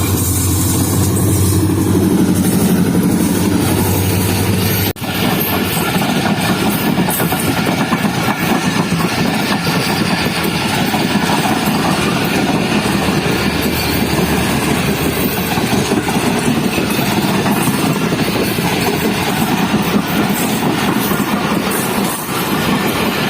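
A fast train led by a ZC30 locomotive rushes past at Dabheji station in Pakistan, a loud, steady roar with rattling wagons and clickety-clack that holds for over twenty seconds, with no voices.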